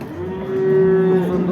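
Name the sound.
cows mooing at a cattle market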